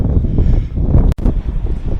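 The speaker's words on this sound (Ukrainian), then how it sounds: "Може вам погано чути, вітер такий піднявся, задуває" Loud outdoor wind buffets the microphone in a constant low rumble by the flooded Dnipro villages, with a brief dropout in the middle.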